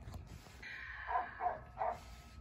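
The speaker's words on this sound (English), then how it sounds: "Again, I apologize for the dogs outside barking." Neighbouring dogs bark outdoors: about three quick, faint barks in a row, heard from a distance over quiet room noise.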